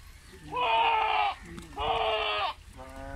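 A goat at a goat farm bleats twice in long, wavering calls, close and loud, with a short quieter bleat starting at the end.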